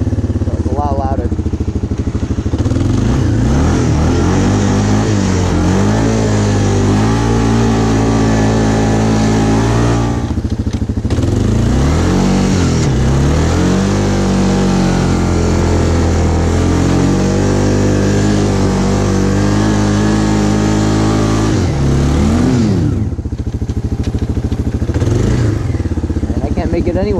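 A Kawasaki Bayou 300 2x4 ATV engine runs steadily while being ridden, a fairly quiet mid-pitched drone that rises and falls with throttle changes, close by and continuous, with someone talking over it.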